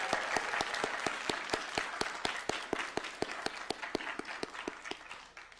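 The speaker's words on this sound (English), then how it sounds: "Yeah, we could clap. Clap for them." Applause from the audience at a city council meeting, a steady run of fairly quick, evenly spaced claps that stays even and then thins and tapers off toward the end, at moderate loudness with no speech.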